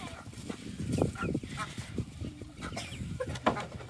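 Chickens cluck and squawk in short, scattered calls close by, with some honking notes in a busy farmyard backdrop.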